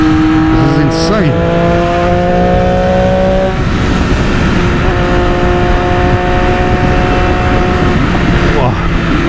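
A 2020 Triumph Moto2 Daytona 765 motorcycle roars loudly while being ridden, its engine revving up through rising pitch sweeps, dropping, then climbing again, with heavy wind rush throughout.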